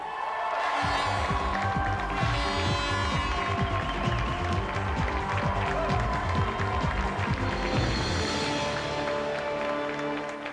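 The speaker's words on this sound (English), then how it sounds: "let's have another round of applause for a true champion, Shango Stableton" Studio audience on a television game show breaks into sustained applause for the winning champion, a dense, steady wash of clapping and crowd noise that holds at full strength throughout.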